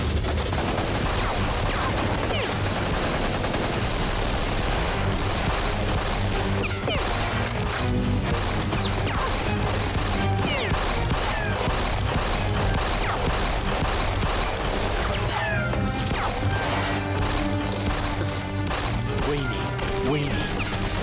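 Dense, loud gunfire rattles continuously in a staged drama scene, rapid overlapping shots and crashes packed together with barely a gap.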